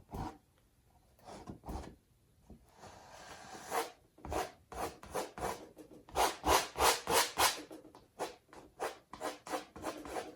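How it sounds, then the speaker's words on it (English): Hard, repeated scraping strokes of a painting knife dragging thick oil paint across canvas for wet-on-wet mountains, sparse at first and then a fast, loud run of rhythmic rasping passes, with no talking. "scraping very hard"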